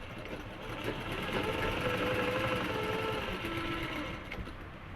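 A sewing machine stitching fabric, its fast, steady mechanical whir running continuously at close range and moderate volume.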